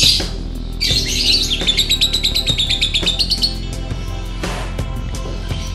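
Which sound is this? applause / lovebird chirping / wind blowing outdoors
lovebird chirping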